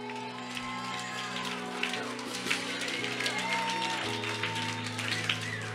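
Church congregation clapping softly and steadily throughout, a diffuse patter like light rain, with sustained music or voices running underneath.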